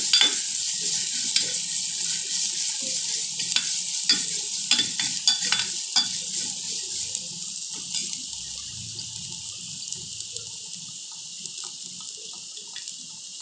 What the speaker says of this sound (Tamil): இப்போ அந்த நேரம் நம்ம லைட்டாக கொஞ்சம் துருவன கேரட் போட்டுக்கலாம். லைட்டாக வதக்கி விட்டுக்கோங்க.